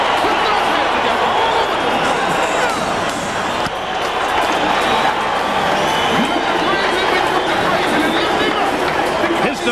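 Sellout boxing arena crowd at a 1997 Holyfield–Tyson heavyweight rematch roaring and cheering as Evander Holyfield enters, a dense, loud, continuous wall of noise with voices over it.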